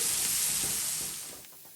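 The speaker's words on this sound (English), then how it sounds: "allow it to fry for about 2 to 3 minutes in the oil before you add any of the meat" Masala sizzling and frying in hot oil for a lamb curry, a steady close hiss that gradually softens toward the end, with faint stirring scrapes and no talk.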